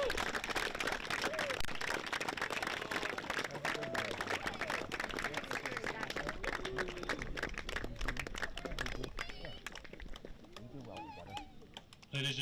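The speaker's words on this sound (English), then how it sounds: "Please give us a round of applause for Nick, Sean, Ben, and their escorts, and Athletic Director Karen Gilmette." A crowd claps for senior boys' soccer players, their escorts and the athletic director at a high school game, continuous patter that thins and fades toward the end, with a voice carrying through it.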